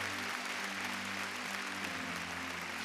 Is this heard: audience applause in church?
yes